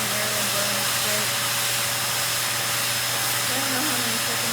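Shernbo single-engine blow dryer running steadily on hair, a constant broadband whoosh with a low motor hum, loud and unbroken throughout.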